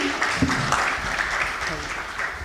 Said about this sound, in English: Please, let's clap of our hands.